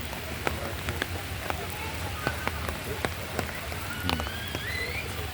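Rain falls steadily across an open eco park, a soft broadband patter with scattered louder drops, while people chat nearby in the background.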